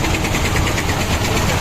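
A trawler boat's engine runs with a close, steady, rumbling mechanical drone that holds even for the whole short stretch, with no talking.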